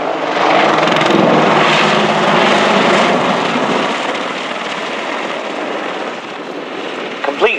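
A Royal Netherlands Air Force Apache helicopter flying its display at the RIAT 2013 airshow roars loudly overhead, a broad rotor and engine rumble slowly fading, with an announcer's voice faintly over the public address.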